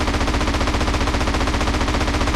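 Rapid automatic gunfire in the video game GTA San Andreas, a steady, loud, evenly spaced stream of shots with no talk.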